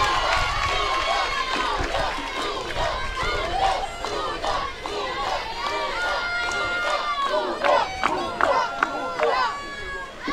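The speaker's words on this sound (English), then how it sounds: "The Italian crowd has been pretty loud." A lively crowd chatters and cheers continuously at a Little League World Series softball semifinal, Italy vs Louisiana, with scattered shouts and whistles rising above the steady roar.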